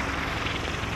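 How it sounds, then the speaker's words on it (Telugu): Helicopters pass overhead with a steady, loud, broad rotor-and-engine roar that holds unbroken throughout. "పైన వచ్చాయరా హెలికాప్టర్స్"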